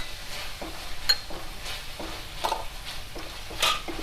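Vegetables being stirred and sautéed in a pan for chilli idli, a soft sizzle under repeated scraping strokes of a spoon at an uneven rhythm, close and fairly quiet, without talk.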